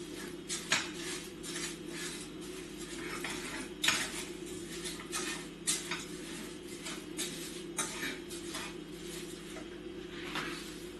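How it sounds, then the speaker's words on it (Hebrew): A spoon knocks and scrapes against a pot while homemade fig and plum jam is stirred, giving repeated clinks and scrapes over a low, steady background hum. "ואני ממשיך לערבב, לא מפסיק לערבב כל הזמן."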